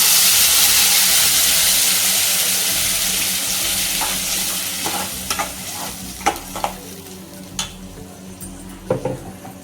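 Ground tomato masala, made for tomato thokku, hits a hot pan with a loud sizzle that gradually fades, followed by a series of distinct spoon scrapes and metallic clinks against the pan.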